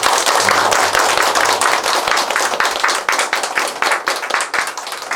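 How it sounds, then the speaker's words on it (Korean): Audience at an apartment residents' meeting clapping together, loud and close, a dense burst of hand claps that thins slightly toward the end over about five seconds. "박수를 부탁드립니다."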